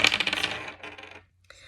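Astrological dice are set down on a surface, giving a quick series of bright clattering rattles that fade over about a second, then one small final click.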